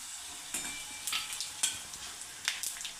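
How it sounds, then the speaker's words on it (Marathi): Whole spices, bay leaf, coriander seeds, poppy seeds and cumin dry-roasting in a pan for a Khandeshi masala, giving a soft steady sizzle with scattered crackles and light stirring scrapes, close and alone. "हा मसाला दोन मिनटं फक्त आपल्याला भाजून घ्यायचा आहे"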